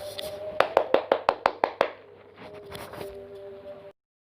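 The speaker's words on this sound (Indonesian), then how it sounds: "Mari kita beri tepuk tangan kepada kelompok 2" Classroom students give a short burst of rhythmic, evenly spaced claps, about nine sharp beats close by, followed by quieter scattered noise and a faint voice before it stops.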